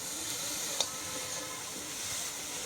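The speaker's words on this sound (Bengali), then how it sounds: "খেজুর গুড় দিয়ে নারকেল ভাজছি" Grated coconut fries in a pan with date palm jaggery, a steady soft sizzling hiss close by with one small pop, no talking.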